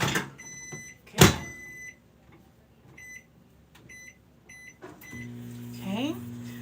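A microwave oven in a home kitchen runs in short heating bursts. Crisp electronic beeps and a door clunk come first, then a steady low hum with a faint rising tone near the end, fairly quiet and close.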